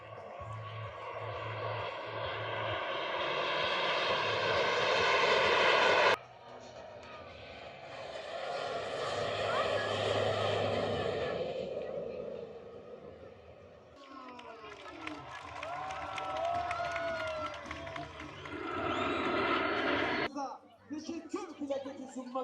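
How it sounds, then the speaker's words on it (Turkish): Solo Türk aerobatic airplane flying inverted at a children's day air show, its engine droning and whining loudly in sweeping, shifting passes, with music and crowd noise mixed in underneath. "Uçak terste gidiyor."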